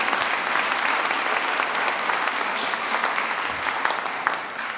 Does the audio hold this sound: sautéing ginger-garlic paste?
no